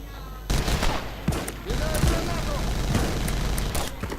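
Automatic weapons fire in the video game Battlefield 2142, bursts of rapid gunshots rattling in clusters over a steady game background, moderately loud.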